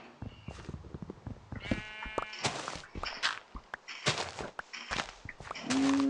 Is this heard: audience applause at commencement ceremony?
no